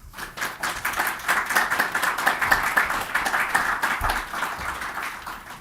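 An audience claps after a talk on the compromises of 1981 and 1982, producing steady, moderately loud applause that runs evenly for several seconds with no voices over it.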